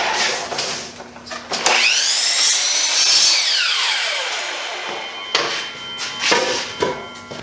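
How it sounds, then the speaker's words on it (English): Power saw cutting a wood board for a homemade wine rack, with a rising whine from about 1.5 to 5 seconds that holds steady, then spins down. Shorter knocks and bursts of shop noise come before and after. "So I'm going to go ahead and finish these cuts up on the miter saw."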